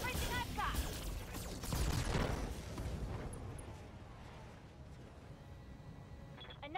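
A BattleTech mech unloads all its weapons at once in the video game, a heavy volley of booming blasts and gunfire with mechanical creaks that tails off toward the end.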